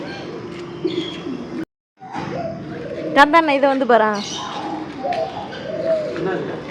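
Pigeons at a park coo in a short burst of throaty calls near the middle, with someone talking around them and background murmur.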